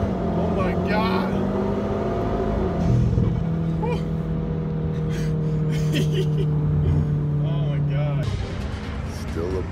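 A 2017 Volkswagen Golf R launches hard, its engine droning loudly with rising and falling tones as it pulls through the gears, heard from inside the car beneath excited shouts from the occupants.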